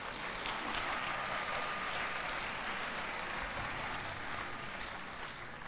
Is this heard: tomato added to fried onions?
no